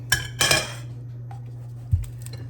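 Metal pans clank and clatter up close as a pan of homemade bread goes into the oven, two quick bursts of clinking followed by a single dull knock over a low steady hum.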